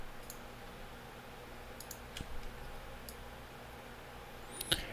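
Office ambience sound effect with faint scattered keyboard clicks and mouse taps over a low steady room hum, quiet and sparse, ending in a brief sharper rattle.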